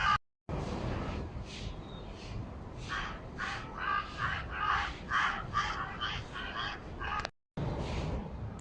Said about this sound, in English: Why are there so many crows?